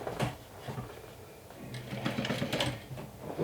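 Sewing machine running in short close bursts as it top stitches the folded edge of a fabric bag, the needle's rapid mechanical chatter starting and pausing.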